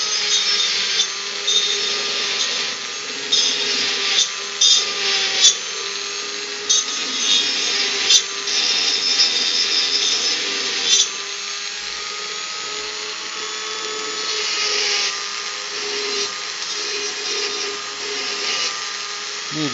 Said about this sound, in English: it's just a Guild rotary tool with a flexi drive on it, and then I'm using a saber tooth burr